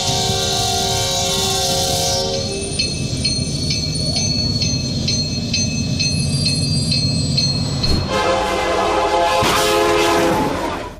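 Union Pacific freight train near Louisville, Kentucky, its horn blaring in loud sustained chords over the rumble and wheel noise of the rolling train, close and strong throughout.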